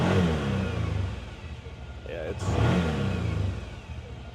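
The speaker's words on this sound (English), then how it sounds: "So if you'll hear the engine rev," A side-by-side UTV engine revs up and down at close range, under a brief bit of talk.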